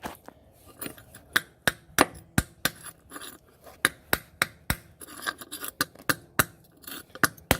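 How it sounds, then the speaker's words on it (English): Hammer tapping a new body mount into place on a Ford Ranger, a steady series of sharp, close metallic taps, some light and some harder, repeated about twice a second with no talking. "You can just, you know, hit it with a hammer."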